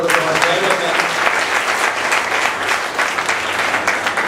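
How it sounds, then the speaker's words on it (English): An audience bursts into a long round of applause at a communication skills session, loud dense clapping that carries on without a break for several seconds. "Can we give them a huge round of applause?"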